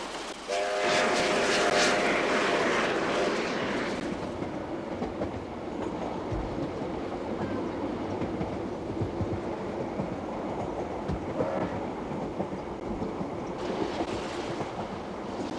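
A steam locomotive pulling a train rumbles and clatters steadily nearby, with a loud rushing burst at the start and continuous rolling noise throughout.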